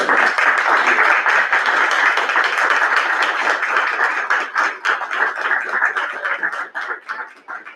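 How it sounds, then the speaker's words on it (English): A roomful of people applauds at a Crescent City commission meeting, steady dense clapping close by that thins and fades toward the end. "Herman, we applaud you"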